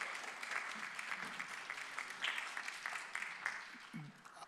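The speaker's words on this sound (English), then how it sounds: "By round of applause, let me hear you guys." Audience applause at a Vallejo city council candidate forum, steady scattered clapping filling the room at moderate volume, with a few voices faintly underneath.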